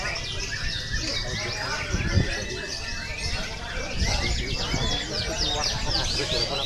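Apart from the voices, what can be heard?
birds calling in the background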